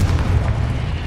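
A deep, rumbling Confringo spell explosion in Hogwarts Legacy, heard as one sustained low boom that fills the moment and holds loud throughout.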